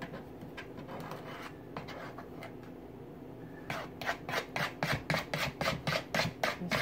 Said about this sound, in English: I'm gonna use this same spatula to get the rim.